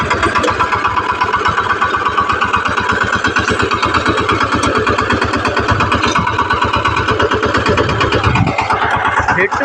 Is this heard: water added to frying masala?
no